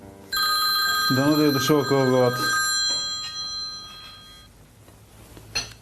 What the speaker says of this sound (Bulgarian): Най-сетне телефонът звъни.